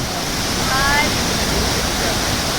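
Bamni waterfall in Purulia in full monsoon flow, a loud, unbroken roar of heavy falling water with a faint voice partly masked beneath it.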